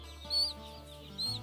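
Chickens in a flock give two soft, close clucks about a second apart over a quiet hum.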